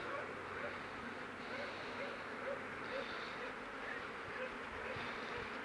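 Honeybees buzz steadily on a pulled hive frame during a rapeseed nectar flow, a dense close hum that continues throughout with no talk over it.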